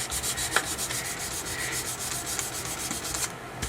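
Sandpaper rubs over a wood-burned pyrography piece in quick, even back-and-forth strokes, a close continuous scratchy rasp with no speech.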